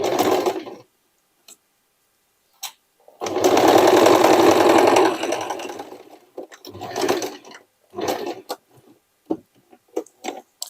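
A sewing machine runs a straight stitch on a denim jacket made from old jeans, with a short burst, a longer steady whirring run, then several brief stop-start bursts and clicks, loud and close with no talking.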